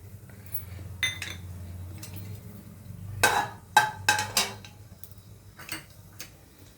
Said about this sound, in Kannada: ನಾನು ಆಯಿಲ್ ಬಿಸಿ ಆಗಿದೆ ನೋಡಿ ಸಾಸಿವೆ ಹಾಕ್ತಾಯಿದ್ದೀನಿ